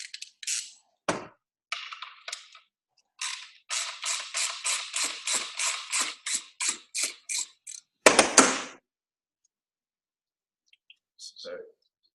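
A ratchet wrench undoes a 10mm foot nut on a bike fork on a workbench, with a few separate clicks and then a rapid, even run of about fifteen close, crisp ratchet clicks, followed by a brief louder rattle.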